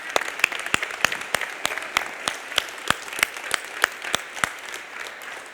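A church congregation claps in a steady, rhythmic beat of sharp, evenly spaced claps during a Lord's Supper service, with a voice speaking briefly over the clapping.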